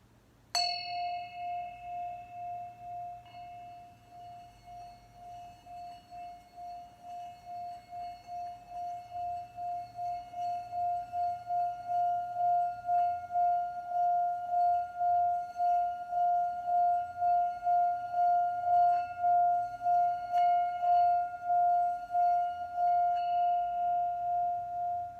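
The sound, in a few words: bell ringing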